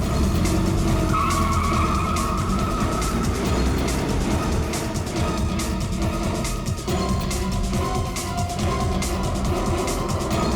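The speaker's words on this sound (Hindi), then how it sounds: "गाड़ी स्टार्ट करो।" A car skids and speeds away with loud, continuous tire squeal and engine roar that fill the whole stretch without a break, and no one speaks.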